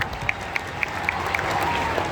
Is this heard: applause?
yes